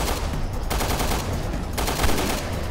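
Rapid gunfire in the video game Resident Evil Revelations 2, a dense, continuous burst of loud shots sustained throughout without pause or talking.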